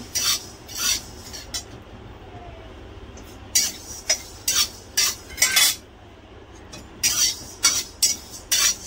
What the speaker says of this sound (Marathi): धणे आणि जिरे भाजायला टाकलं